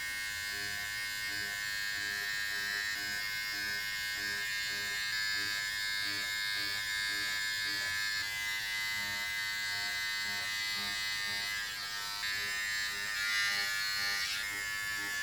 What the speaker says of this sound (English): take your trimmer and begin to practice